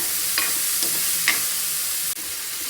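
Kerala-style masala dosa filling sautéing in a pan, a loud steady sizzle broken by a few sharp stirring scrapes, close up and with no speech.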